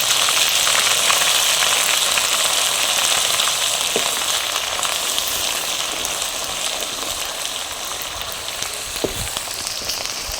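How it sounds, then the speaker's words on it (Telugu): Fresh ginger garlic paste frying in leftover oil for a chicken pickle, a loud dense sizzle close by that stays constant and eases slightly over time, with a couple of faint taps. "ఇప్పుడు అల్లం వెల్లుల్లి పేస్ట్ని ఈ మిగిలిన నూనెలో వేసుకుని వేయించుకుందాము"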